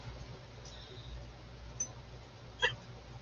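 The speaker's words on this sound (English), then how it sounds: "hopefully I can drink some Coke here and have these hiccups go bye-bye" Two brief, sharp hiccups from a person, one faint around the middle and a louder one near the end, over quiet room background with no talk.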